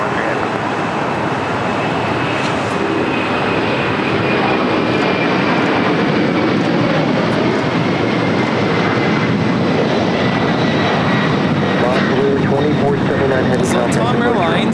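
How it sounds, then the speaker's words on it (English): LATAM Boeing 767-300ER taking off at LAX, a loud continuous jet engine roar filling the scene with a steady rumble throughout. "Latam Airlines 2479 taking off to Lima, Peru, with 767-300ER."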